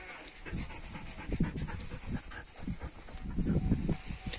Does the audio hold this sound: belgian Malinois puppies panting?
yes